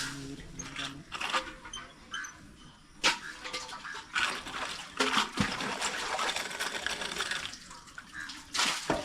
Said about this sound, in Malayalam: വെള്ളം കോരട്ടെ സുഹൃത്തുക്കളെ